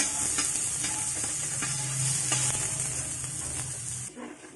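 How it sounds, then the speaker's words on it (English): Chopped garlic and onion frying in a pan, a dense steady sizzle with periodic scraping strokes of a stirring utensil, close, fading briefly at the very end. "Put this chopped garlic and onion and stir so that it will not be burned."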